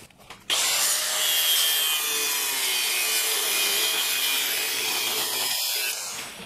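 A power tool cuts into the outlet of a steel fuel tank while a 1939 Hudson truck is being built. The cut is loud and harsh, with a steady grinding, rasping roar that starts abruptly and runs for several seconds before it eases off.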